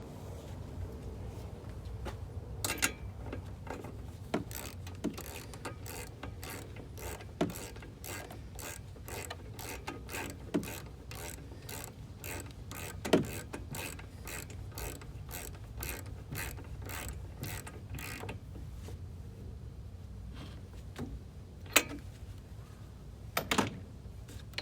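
Hand ratchet tightening a spark plug on a leaf blower, quiet steady clicking strokes repeated in a fast rhythm for most of the span, with a few sharper clacks.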